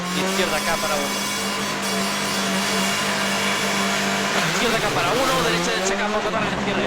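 A WRC rally car at Rally Catalunya brakes and cuts through a corner, its engine a loud sustained drone with shifting pitch, heard under a commentator's continuous talk.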